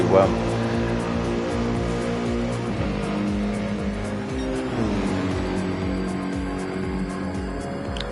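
Lamborghini Murcielago race car in a racing video game accelerating hard, its engine note climbing through gears with a shift around midway, loud and continuous while commentators talk over it.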